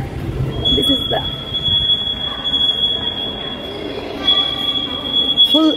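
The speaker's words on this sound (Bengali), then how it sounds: "C the train is going." A train rolls past with a sustained, piercing wheel squeal holding steady over rumbling rail noise, fairly close, while music and faint voices carry in the background.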